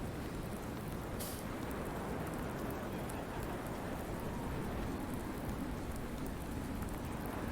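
Rain and wind ambience in Farming Simulator 19, a dense, steady wash of falling rain with a continuous windy hiss, loud and unbroken throughout with no talking.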